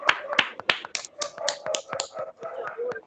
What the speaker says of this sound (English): And a round of applause for Stuti.